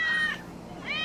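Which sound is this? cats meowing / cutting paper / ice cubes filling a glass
cats meowing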